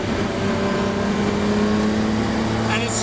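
A restored Nissan GT-R with over 400 kW at the wheels accelerates on the road, its engine and road noise holding a steady, loud, close roar with a rising tone near the end.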